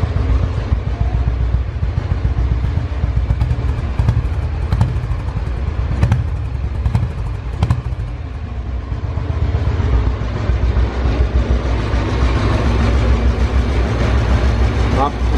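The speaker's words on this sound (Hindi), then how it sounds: "तो ये तो हो गया फिलहाल गाड़ी के इंजन का साउंड" A Royal Enfield Bullet Standard 350cc motorcycle engine runs steadily up close, its exhaust giving a deep, continuous rumble that stays loud and even throughout.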